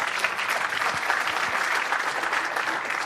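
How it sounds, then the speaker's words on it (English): A conference audience gives a lightning talk speaker steady, dense applause that carries through the whole short stretch at an even level. "Please give him a big round of applause."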